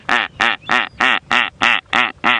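A human voice imitates geese honking at a crocodile in eight loud, evenly spaced nasal honks, heard close and alone with no other talk.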